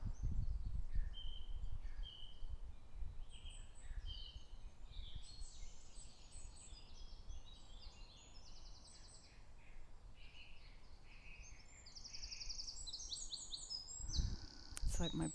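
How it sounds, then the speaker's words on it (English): Several birds chirping and singing outdoors in the morning, a dense run of high calls at a moderate distance over low rumbling background noise. "my ears keep tuning in and out of the bird song"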